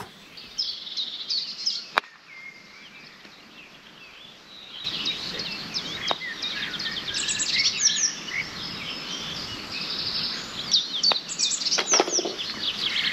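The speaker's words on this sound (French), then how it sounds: "on va écouter les oiseaux pour la fin de ce trou." Birds chirp and sing steadily outdoors on a golf course, several calls overlapping against a soft breeze, with an occasional sharp click nearby.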